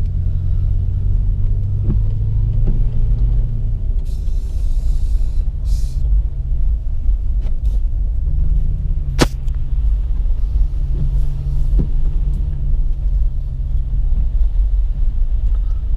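A car drives through a snowy town at Big Bear Lake, California, its engine and road rumble a steady low drone from inside the cabin, with a few faint knocks and no talking.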